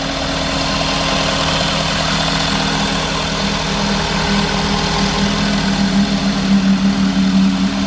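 A 2015 Ford F550 rollback flatbed tow truck with the 6.7 diesel idles with its PTO engaged, giving a steady, loud, even droning hum with a constant low throb and no talking.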